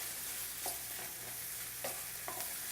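Apples stirred around in a pan as they warm and begin to cook, with a soft steady sizzle and a few faint scraping strokes of the spoon, fairly quiet and without talk.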